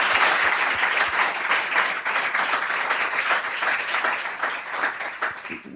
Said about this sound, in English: So I want to just give a round of applause to those folks who are sort of unsung heroes.